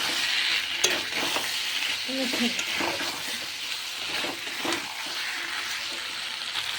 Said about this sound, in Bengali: এবার থেকে ভেজে রাখা আলু পটলগুলো ঢেলে দিলাম